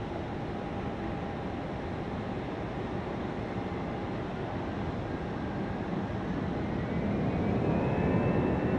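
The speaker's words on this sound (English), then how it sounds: "Ooh, good sounding departure, this one. It's going to be an A319." An Airbus A319 departing Raleigh-Durham International Airport gives a steady, broad jet roar heard from a distance. The roar swells toward the end as a thin rising engine whine climbs above it.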